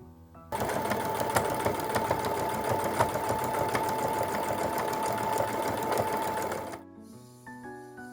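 A sewing machine runs steadily for about six seconds, topstitching both sides of a fabric bag strap, with a close, even mechanical whir, then stops and leaves quiet room sound.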